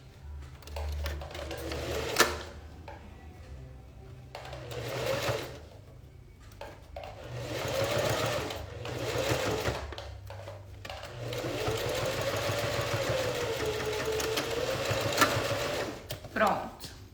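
A sewing machine stitches a fabric toiletry bag in bursts of rapid mechanical whirring, close and steady, with someone speaking softly between and over the runs.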